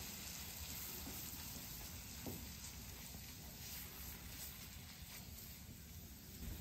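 Flour roux cooking in saved bacon grease on a flat-top griddle gives a steady, close sizzle and hiss that runs unbroken, with faint scraping and no voices.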